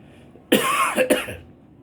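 Two quick, harsh coughs close to the microphone, the second shorter, then quiet.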